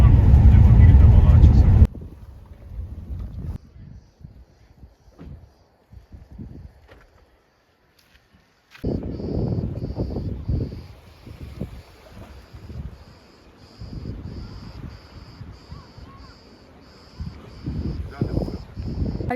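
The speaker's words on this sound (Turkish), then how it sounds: "Çok rüzgar var." Heavy wind on the Aegean coast buffeting a phone microphone in loud rumbling gusts, easing to a quieter stretch, then roaring again with a faint high whine underneath.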